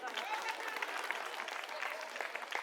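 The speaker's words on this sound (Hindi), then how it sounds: "इसके लिए ताली बजा दो" A crowd at an outdoor political rally in Delhi claps and cheers in a busy, uneven patter with voices mixed in, the noise holding at a moderate level throughout.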